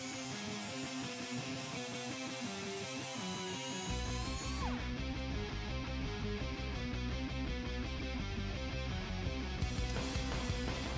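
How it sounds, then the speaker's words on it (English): Cutoff wheel grinding through metal on a 1971 Plymouth Cuda near a 440 engine, a dense, continuous high whine and rasp filling the whole stretch loudly, with no pause. "With a cutoff wheel slinging metal everywhere, a welding blanket will keep that pretty 440 from getting scarred up."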